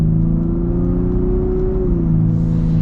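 A new Ford Raptor's engine pulls hard, a loud, close, droning growl that holds steady and then shifts pitch partway through, with no speech.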